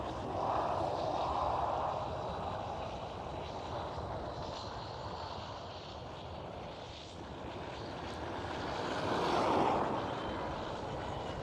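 A Boeing 737 jet airliner passes close by at Amsterdam Schiphol, a fairly faint, steady engine rumble with a soft whining tone that swells gently near the start and again toward the end.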